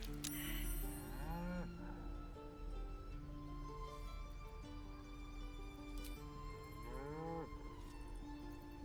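A cow moos inside the Baldur's Gate 3 fantasy role-playing game, with a drawn-out moo near the start and a second one near the end, both clear and close over a soft bed of game music.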